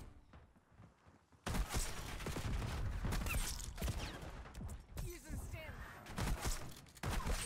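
A Marine SP shotgun fires during a Black Ops 6 multiplayer match, with loud, heavy blasts among busy gunfire and game noise.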